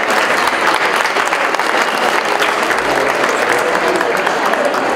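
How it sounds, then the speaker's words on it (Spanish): Sustained, loud applause from an audience at a formal university event honoring a teacher, a steady even roar of many hands clapping throughout. "Fuertes los aplausos para la maestra."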